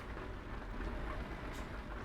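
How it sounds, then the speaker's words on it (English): Steady rain pours down at night in a truck driving game while a Renault hauls a heavy cargo load, a constant broadband wash with low rumble and no voices. "It's night, it's raining"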